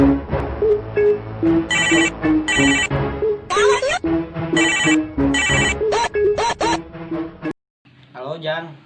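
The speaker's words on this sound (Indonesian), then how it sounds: "Coba saya telepon dulu." Phone ringtone in a Sundanese short film scene, a repeated melodic electronic ring with bright tonal bursts sounding loudly for several seconds, then cutting off as a voice answers the call.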